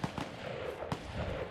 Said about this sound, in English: I hear gunfire somewhere.